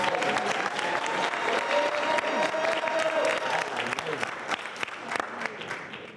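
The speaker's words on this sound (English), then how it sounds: "Let's give them another warm round of applause" An audience at a student presentation competition claps warmly in a dense, sustained round of applause with sharp individual claps, while a voice and a faint tone carry on underneath.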